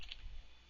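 Typing G-code commands on a computer keyboard: a brief run of soft, close key clicks, faint and alone with no talk.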